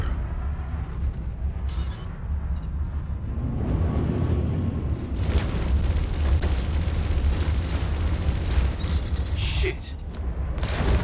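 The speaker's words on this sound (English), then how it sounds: "That missile was close. Lucky it didn't take out anything." A missile explodes close to a ship in Star Citizen, a heavy rumbling blast that rolls on for several seconds over constant low engine drone, with a voice swearing briefly.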